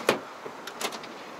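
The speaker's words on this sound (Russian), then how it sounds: "Нажали, дверь закрылась." A car's power door closes after a button press: a sharp click followed by a few soft mechanical knocks and thuds, close up and brief.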